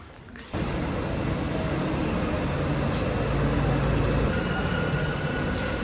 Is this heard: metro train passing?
yes